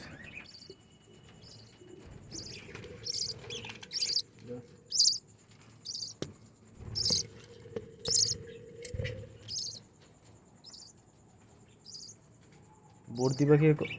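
Bright, quick chirps and tweets from budgerigars in a breeding colony, in short bursts, with a soft low murmur underneath and a louder flurry of chatter at the end.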